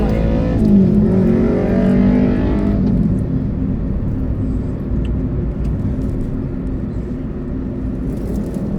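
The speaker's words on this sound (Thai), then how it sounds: "เป็นมอเตอร์ไซค์บิ๊กไบค์ลูกเครื่องเขาใหญ่ ก็เสียงดังนิดนึง มาคันก็ผ่านไปเร็วมาก" A loud, heavy big-bike motorcycle with a large engine roars past fast and close by, its engine note rising then fading into a steady rumble of traffic.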